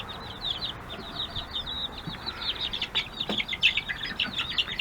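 Young hens cluck and chirp continuously at close range in a coop, a busy overlapping stream of short calls over a steady background rumble, with no talking.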